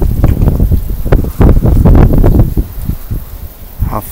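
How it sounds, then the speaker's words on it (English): Strong gusty wind blasts outdoors under a thick cloud-covered sky, loud close buffeting bursts against the microphone that swell and fade over a few seconds. "Whoa, windy."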